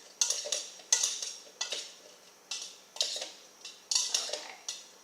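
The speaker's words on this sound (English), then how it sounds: "just give that a good little stir" A small spoon stirs salad dressing, clinking against the sides of a bowl in quick repeated scrapes and taps, close and fairly quiet, in an irregular rhythm of about a dozen strokes.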